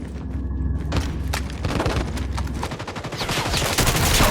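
Rapid bursts of gunfire and booming shots from the mobile shooter game Call of Duty Mobile, dense and continuous, with overlapping automatic fire and thuds running loud throughout.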